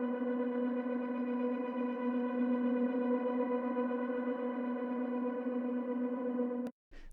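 Sustained synth pad chord in an FL Studio production, thick and steady with a chorus-like shimmer and distortion, holding evenly at moderate level before cutting off abruptly near the end, followed by a brief click.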